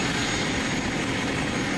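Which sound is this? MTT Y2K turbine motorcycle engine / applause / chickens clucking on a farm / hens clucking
MTT Y2K turbine motorcycle engine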